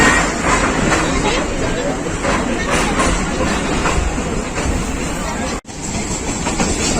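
Busy platform bustle at Rawalpindi railway station as a train departs, a steady broadband rumble and clatter with crowd babble throughout, briefly cutting out near the end.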